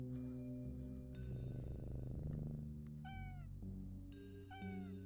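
Several cats meowing, a few short high mews and one warbling cry over a low droning musical background, fairly faint and close.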